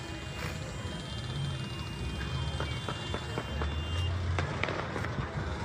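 Fireworks crack and pop repeatedly in the air outdoors, sharp distant bursts scattered over a steady rumble of passing traffic, with no talk.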